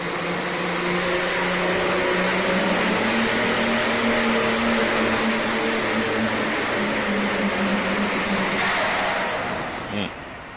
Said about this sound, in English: Sounded like it was over revving the whole time, didn't it?